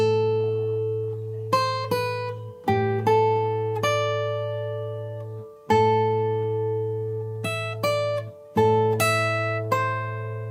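Guitar plays the next phrase of a Minecraft song as a slow sequence of clear plucked notes over a sustained low open string, each note ringing and decaying, played alone with no talking.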